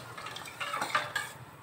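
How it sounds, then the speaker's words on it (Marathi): A spoon scrapes and clinks against a metal pot while salt and oil are stirred into water, a short burst of soft scraping and light taps, close and fairly quiet. "आता हे मीठ आणि तेल जरा मिक्स करून घेत आहे"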